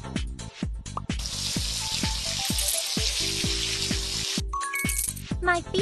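Water runs and splashes in a cartoon nail salon game, a steady gush under a run of bright, bouncy chime-like game effects and a spoken voice.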